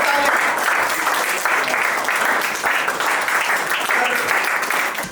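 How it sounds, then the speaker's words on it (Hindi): An audience at a voluntary blood donation educational session in Jharkhand breaks into loud, continuous applause, a dense steady clatter of many hands with a faint murmur of voices underneath throughout. "इस known as the blood man of Jharkhand में एक बार जोरदार ताली"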